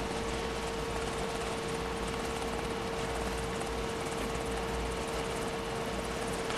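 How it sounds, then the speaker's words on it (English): Steady, loud broadband rumble of a helicopter coming in to land on the tarmac at Cape Canaveral, with a constant engine whine, unbroken and close throughout. "here comes the first of the helicopters coming in for a landing on the tarmac"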